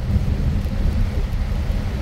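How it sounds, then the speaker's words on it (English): Heavy rain pouring down with a deep, steady rumble like distant thunder, continuous and loud throughout with no voices. "Rain."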